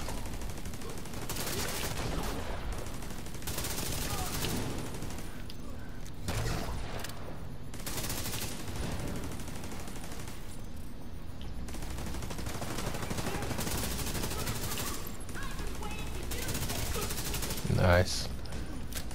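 Sustained turret gunfire in Division 2: Warlords of New York, dense automatic bursts running nearly continuously with brief gaps, loud and close, mixed with other shots and explosions.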